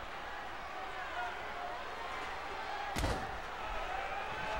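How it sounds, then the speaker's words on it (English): A steel chair shot lands during a wrestling match, a single sharp slam rising out of steady crowd noise and commentary. "there's a shot at the chair"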